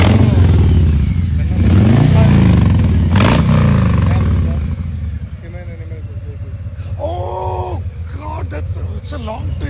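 A 1700 cc Harley motorcycle exhaust revving close by: loud, deep throbbing blips for about five seconds that then drop back to a lower idle, while people talk over the engine.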